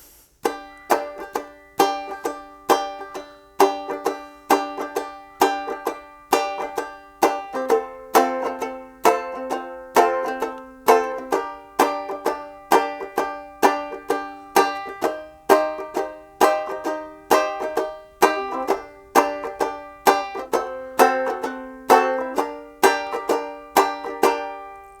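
Ukulele strummed steadily in a repeating down-down-up pattern for a song, each chord stroke crisp and evenly spaced, played alone without any voice over it.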